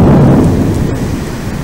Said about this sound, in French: Orage du 11 août, suite.